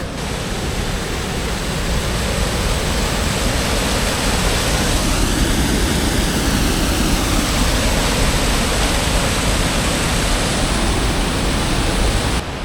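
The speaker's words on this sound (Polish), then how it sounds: "A wygląda ten wodospad tak." The Nomeweski waterfall in Estonia roars steadily, a loud, unbroken rush of falling water with no voices over it.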